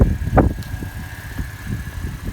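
An Audi S4 engine runs during its first short drive, a low steady rumble with a brief throttle blip near the start, fairly close and without voices.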